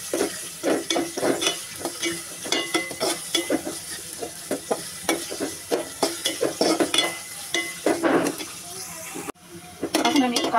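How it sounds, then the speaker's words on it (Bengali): Onions sizzle in a pan while being browned, with frequent clinking stirs of a utensil against the metal, close and busy, a brief pause near the end before the frying picks up again; a voice is faintly present. "পেঁয়াজ আমি বাদামি কালার করে ভেজে নেব"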